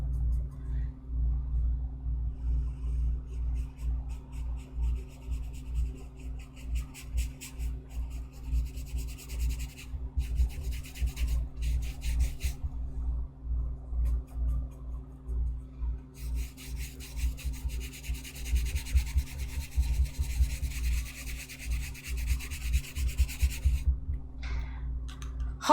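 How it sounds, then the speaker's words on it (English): A paintbrush works over a sand dragon model, with soft rubbing, scratching strokes in irregular bursts, close and quiet, above a steady low background hum. "I know that some people really enjoy the painting sounds"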